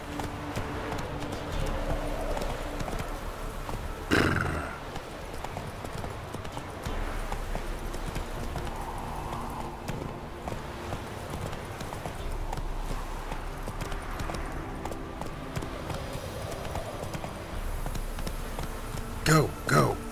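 Roach the horse galloping in The Witcher 3, a steady, moderately loud clip-clop of hooves running through the whole stretch under ambient game noise, with a couple of louder knocks and some talk.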